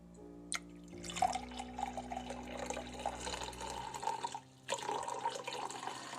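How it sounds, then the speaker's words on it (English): Filtered water from a Brita filter pours into a glass in a steady rushing stream. It pauses briefly and then resumes, close and fairly loud. "This is the sound of the filtered water"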